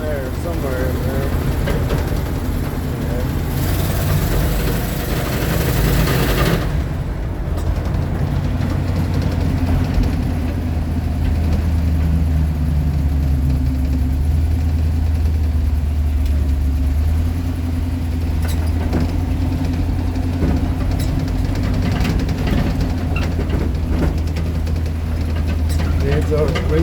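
An International Travelall engine idles with a rattle, a steady low rumble with a loose rattling texture that runs throughout while a person talks over it.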